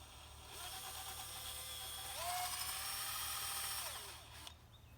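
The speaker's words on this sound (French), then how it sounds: "Je visse ça dedans." Power drill driving a screw into a mineral pot, a steady whirring run that rises in pitch midway, then winds down and stops, close and fairly quiet.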